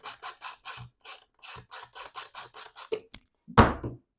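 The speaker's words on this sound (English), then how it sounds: "And then we can fasten it back together." Screws are tightened on a Baja Designs Squadron light housing for a Milwaukee M18 utility flashlight, a close series of about a dozen crisp ratcheting clicks followed by a louder clattering knock.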